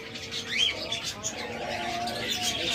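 Doves or lovebirds at a bird market give soft coos and chirps amid steady crowd chatter and background noise, the calls scattered and fairly close.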